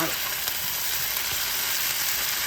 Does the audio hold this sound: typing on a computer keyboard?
no